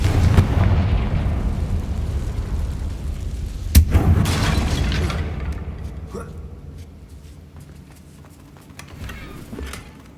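A magic explosion spell from the video game Hogwarts Legacy bursts against a damaged bridge, a deep rumbling boom with a sharp crack near the middle, then debris settling and fading into quieter game ambience.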